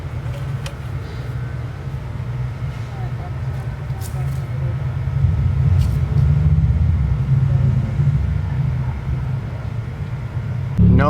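Engine of a Dodge SRT4 car idling after start, a steady low rumble that grows slightly louder midway, with occasional clicks and faint voices in the background.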